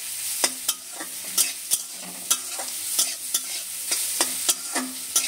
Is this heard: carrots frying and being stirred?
yes